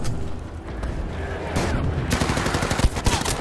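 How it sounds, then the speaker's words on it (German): Revolver and pistol gunfire in the video game Battlefield V, dense and loud with a rapid series of sharp cracks and booms layered over continuous battle noise. "Dass diese scheiß Pistolen so stark sind mit einem Schuss."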